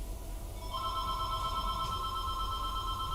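A telephone rings with a steady electronic tone that starts shortly after the clip begins and carries on without a break over a constant low background hum, fairly close and with no talk.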